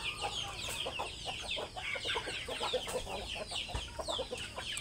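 Morning flock of chickens clucking busily at feeding time, a steady chorus of overlapping clucks and soft calls, fairly close and continuous, with no one speaking.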